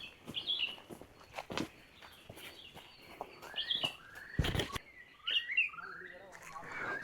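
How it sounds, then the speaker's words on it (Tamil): Parrots and sparrows call in a forest near an ancient cave: repeated high chirps and short tweets come at intervals, mixed with rustling and footstep-like thumps, moderately distant and fairly faint. "இந்த கிளி கத்துற சவுண்டு, இந்த குருவி கத்துற சவுண்ட்லாம் சூப்பராக இருக்குது."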